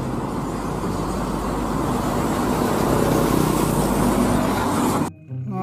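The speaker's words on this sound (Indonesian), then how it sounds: "Truk kontainer panjang." Toy long container truck sound effect: a steady, loud rolling vehicle drone with broad road-like noise holding evenly for about five seconds before stopping abruptly.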